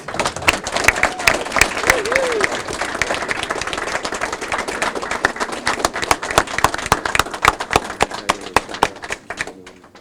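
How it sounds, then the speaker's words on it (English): An audience at a lottery and gaming corporation's event gives a round of applause for a state majority leader, with sharp scattered claps filling the room at close range and some cheering mixed in. "another great big round of applause"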